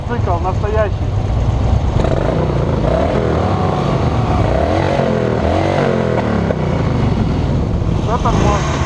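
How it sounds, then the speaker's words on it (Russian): A new Harley-Davidson motorcycle engine rumbles and revs nearby, a continuous low throbbing drone with rising and falling pitch sweeps, heard under people talking. "Вот это вещь, вот это мотоцикл настоящий."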